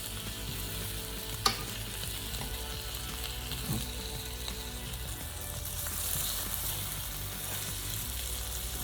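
Tofu pieces frying in a pan, a steady close sizzle with light scraping and one sharp clink near the start, no voices.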